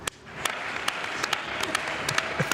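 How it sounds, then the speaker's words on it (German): Audience applause rising after a brief pause and continuing as steady, moderately loud clapping with a few sharper individual claps. "Ihr könnt jetzt klatschen."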